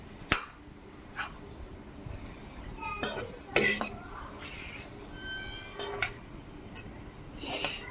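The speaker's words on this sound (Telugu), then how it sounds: "ఇప్పుడు వేయించుకోవాలి. ఉల్లిపాయలు బాగా ఎర్రగా వేగాలి." Onions frying in a pan for egg and onion curry, with intermittent clinks and scrapes of a spoon against the pan over a low background sizzle, fairly faint and close, with a few sharper metallic knocks.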